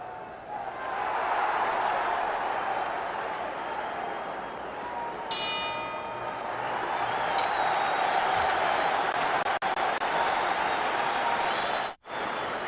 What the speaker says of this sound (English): Well, you can hear that tremendous roar in the background.